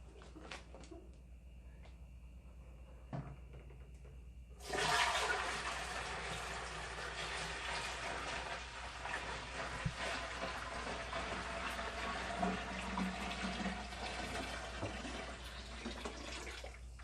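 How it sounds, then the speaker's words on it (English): Hot water dumped into the top of a brewing fermenter with a hose attached, starting abruptly after a few clanks and continuing as a steady, close splashing rush. "And we'll dump our water right in the top."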